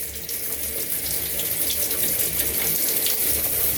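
Pressurized water sprays steadily to rinse a part of a Roborock cordless stick vacuum, a continuous loud hiss and splash over a sink-like basin without pause.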